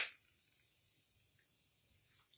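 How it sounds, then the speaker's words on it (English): Touch Bold setting spray mists across a face in one sustained, soft, close hiss lasting about two seconds before cutting off. "now I'm gonna go in with my Touch Bold setting spray"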